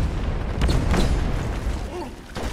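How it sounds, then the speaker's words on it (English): A grenade detonates amid a chaotic cave fight against alien bugs in Deep Rock Galactic, booming blasts and rumbling debris rolling through close and loud, with a few sharper bursts and a lingering low thunder. "Throw a grenade."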